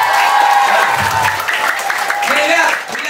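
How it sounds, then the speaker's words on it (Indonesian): Applause and light crowd noise at an English and character camp event, a steady wash of clapping filling the room while voices and chatter mix underneath. "Tepuk tangan buat."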